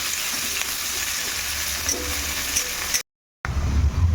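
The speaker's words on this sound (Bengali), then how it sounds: "এবারে এই পেঁয়াজটা একটু লাল লাল করে ভেজে দেবো" Chopped onions fry in hot oil with whole garam masala spices and bay leaf, a dense steady sizzle filling the whole stretch, broken by a brief silent gap before resuming.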